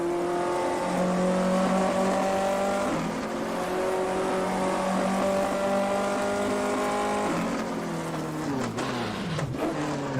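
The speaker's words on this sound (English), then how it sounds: "The downshift to third." A 1958 Formula 1 car in a racing video game at Silverstone drones loudly at steady revs, then downshifts to third near the end with a quick blip and a falling engine pitch.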